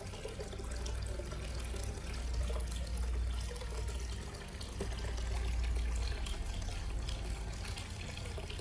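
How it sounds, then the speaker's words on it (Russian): Warm water flowing from a heater outlet into an 11-cubic-metre Bestway above-ground pool, a steady, loud rushing splash that continues throughout with only slight swells, and no voices. "Там, возможно, выходит очень теплая вода"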